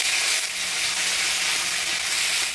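Chopped tomato dropped into hot oil spiced with whole garam masala, dried chillies and bay leaves, giving a loud, bright, continuous sizzle that fills the short moment close by.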